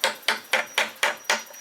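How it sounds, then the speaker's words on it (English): A hammer bashes rusty nails out of old pallet wood, six sharp metallic knocks in an even rhythm, close and clear with no speech. "So I'm just bashing them out a little bit with a hammer."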